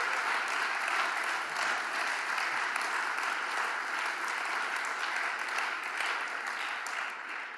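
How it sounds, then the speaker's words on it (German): Congregation at a Wednesday evening church service gives warm, sustained applause, an even, fairly quiet wash of clapping lasting several seconds without pause. "einen herzlichen Applaus"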